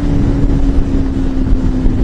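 A Jawa or Yezdi motorcycle engine ridden at speed on a ride toward Manali: a loud, steady engine drone with a constant low hum, buffeted by heavy wind noise and no voices.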